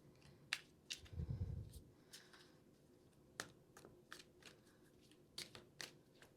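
Brisk riffling of playing cards with a few sharp clicks and a soft thump near the start, close by, with no one speaking.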